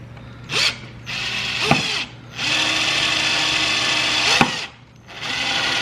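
A power drill bores holes in a homemade fidget cube. Several close, loud whirring runs are broken by brief pauses, with sharp clicks where the trigger catches and releases.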